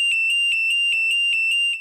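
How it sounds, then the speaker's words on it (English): Carbon monoxide detector's backup alarm sounding, a loud shrill electronic beep repeating rapidly in an even rhythm, close by with no talking. "So when she heard the backup alarm sound,"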